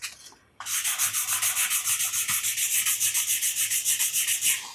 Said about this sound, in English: I like to go on top of the thread, each one, so if there are any other marks visible, scratches, it will polish them down.